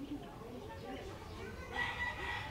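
A rooster crows faintly at a distance, a short call rising near the end, over low background sounds in a backyard where a chicken is being handled.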